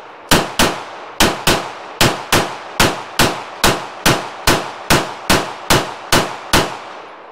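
A Walther PDP pistol fires 115 grain ammunition in a steady string of about fourteen loud, sharp shots, evenly spaced roughly half a second apart, each crack ringing briefly before the next.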